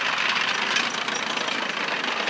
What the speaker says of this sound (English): The WWII Jeep, of course.